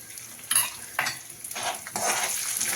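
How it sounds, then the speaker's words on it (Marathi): Urad and chana dal with green chili pieces fry in hot oil, giving a steady sizzle with several sharp bursts as ingredients are stirred or dropped in, close and alone without talk. "हरभऱ्याची डाळ टाकून घेणार आहोत या अशा आपण छान तळून घ्यायच्या हिरव्या मिरचीचे तुकडे टाकून घेऊ आपण"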